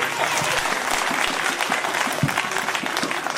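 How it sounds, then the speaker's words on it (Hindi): A church congregation at a Christmas service claps loudly and continuously, a dense, even burst of applause from many hands filling the room throughout. "तो सब जोरदार ताली बजाएंगे परमेश्वर के लिए।"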